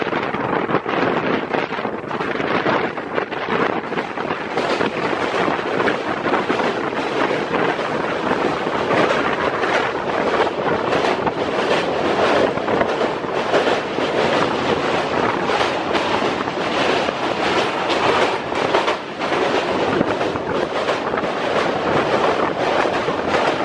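Vistadome tourist special train running on a single-line track between Alipurduar and Siliguri, with a continuous loud rumble and clatter of wheels on rails mixed with heavy wind buffeting close to the microphone.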